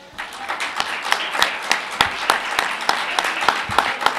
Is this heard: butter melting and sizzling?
no